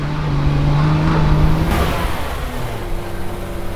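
A Mercedes Unimog engine revs under load while climbing an off-road slope, a loud steady drone whose pitch rises and then drops back, heard close and alone without talk.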